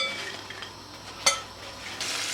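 Soft, steady sizzling of potatoes frying in oil over medium heat, with a faint clink of a utensil partway through and a slight hiss rising toward the end.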